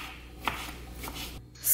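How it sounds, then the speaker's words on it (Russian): A knife slices peeled champignon mushrooms into thin half-rings on a board, giving soft, quiet cuts with one sharper tap among faint rustling. "Грибы, шампиньоны очистила и нарезаю полукольцами тонко."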